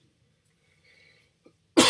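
A single sharp, loud cough bursts out at the very end after near silence, from someone recovering from the flu.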